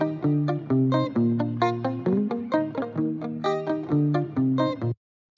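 Layered Lingala guitar loops in an FL Studio beat, bright plucked guitar lines interlocking over a steady bass pattern in a repeating rhythmic cycle, clear and upfront with no talking, stopping abruptly near the end.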